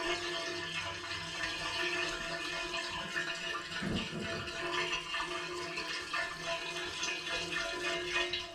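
Burnt transmission fluid drains from a vehicle's transmission pan plug in a continuous, splashy liquid stream, with a brief louder gush partway through.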